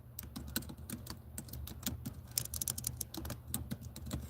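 Fingers type on a computer keyboard in a quick, uneven run of sharp clicks, close by and fairly quiet, over a low background hum.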